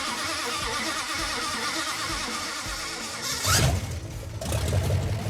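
A Dodge Daytona pro street car being started after a five-day rebuild: a steady rough idle-like rumble, then the starter whines up and the engine catches with a loud surge near the end, close by.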